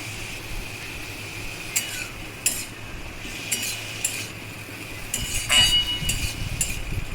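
A spoon stirs pui shak (Malabar spinach) in a pan, giving soft scraping and intermittent metallic clinks over a faint steady hum, with a louder cluster of clinks and scrapes near the end.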